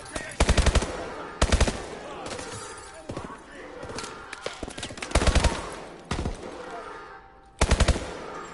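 Machine gun fire in Call of Duty: Advanced Warfare, loud close bursts recurring several times, with quieter shots and thuds between them and voices talking over the action.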